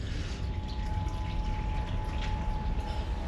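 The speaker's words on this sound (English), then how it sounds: "And the water runs down this channel here." Steady water running along a drainage channel into a sump beneath a house in Shaftesbury, a continuous close rushing flow with a faint hum, no voices.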